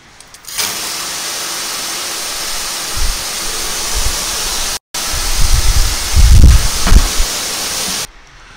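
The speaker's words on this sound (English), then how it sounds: "So I'll just stick the water on and we'll show you what we've got." Steam condenser water spray jets switch on with a sudden loud, steady hiss of rushing spray, which cuts out briefly, resumes, and runs for several seconds with low rumbles and splashes before stopping abruptly.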